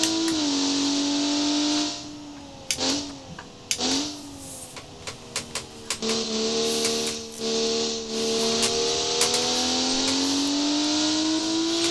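A Crown Model 8 car in BeamNG drives along a road toward a roundabout, its engine droning steadily with rising and falling pitch through gear changes, loud and close with no one talking.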